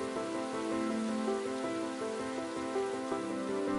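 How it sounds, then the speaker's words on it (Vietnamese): Heavy rain in an animated drama: a steady, even downpour with a sustained tonal layer running beneath it, no voices. "trời lại mưa to"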